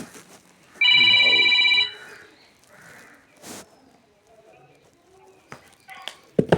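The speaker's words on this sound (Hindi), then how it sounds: "फोन रिसीव करो, देखो कौन है।" Telephone ringing during a chemistry class, one short electronic ring burst of about a second, clear and fairly loud against a quiet room, followed by faint scattered noises.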